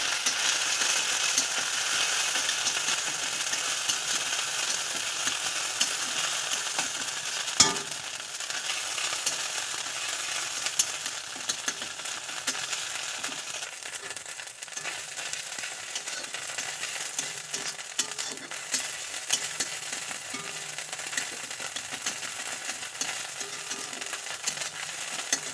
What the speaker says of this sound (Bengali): আদাটা ভালো করে ভাজা হয়ে গিয়েছে।